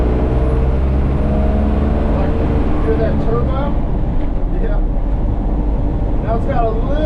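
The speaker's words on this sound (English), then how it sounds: "hear that turbo?" The turbo of a Cummins diesel-swapped Ford Bronco whistles and spools over a loud, steady diesel drone while driving, and people talk over it.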